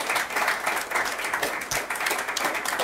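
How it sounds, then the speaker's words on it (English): An audience claps at the close of a panel Q&A on the European demographic crisis, a steady moderately loud round of applause filling the short stretch. "Let's end with a round of applause."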